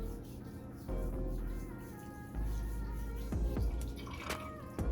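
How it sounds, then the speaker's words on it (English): Lukewarm water splashed onto a face at a sink during a skincare rinse: wet slaps and trickling come in a few close bursts over a steady background of running water, with no talking. "Get a little bit of water, doesn't matter if it's lukewarm, just a little bit, and then go on my face again."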